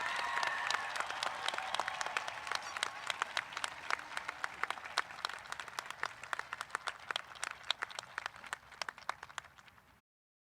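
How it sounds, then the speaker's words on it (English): An audience at the Saugus High School 2023 graduation ceremony applauds the class of 2023, a dense and steady burst of many hands clapping that carries on for several seconds and then fades out. "how about a round of applause for the class of 2023?"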